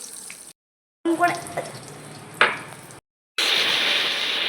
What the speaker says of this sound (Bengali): এই যে এখানে এখন পটল ভাজা করে নিচ্ছি